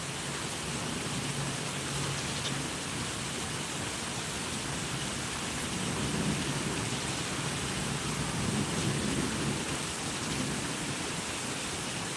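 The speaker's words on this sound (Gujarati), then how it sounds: "અમારે વરસાદ ચાલુ છે" Steady rain falls in a continuous hiss, with low rumbles of distant thunder swelling faintly underneath at moments.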